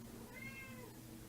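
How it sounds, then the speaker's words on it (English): Pet cat gives a single drawn-out meow in the background of a quiet room, faint but clear over a low steady hum, with no one talking. "You can probably hear the sultry sounds of my cat in the background"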